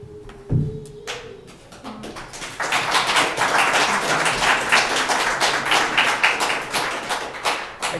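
Audience applause at a city council meeting after a public speaker, a single sharp tap first, then a swelling burst of many hands clapping that holds steady and tapers slightly near the end.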